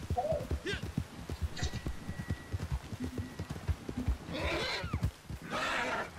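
A horse in Red Dead Redemption 2 gives two loud, drawn-out neighs near the end, following a stretch of hooves clattering close by.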